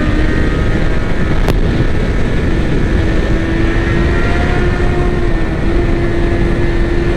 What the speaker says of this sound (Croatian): A lipo se i čuje motor, moramo priznati. CBR ima onaj lipi oštar zvuk